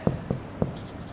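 Three quick, soft taps of writing on a board during a class lesson, evenly spaced within about a second, faint and close with no speech over them.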